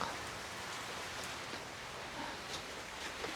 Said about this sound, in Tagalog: Ito po yung malakas ng ulan.